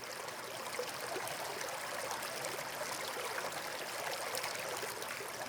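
A small stream trickles steadily and without pause, its soft watery burble continuous and even, close by, with no voices.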